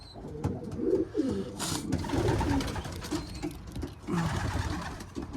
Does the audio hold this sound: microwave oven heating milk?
no